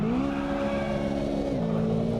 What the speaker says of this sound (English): Get it to full revs and simply let go of the launch control button.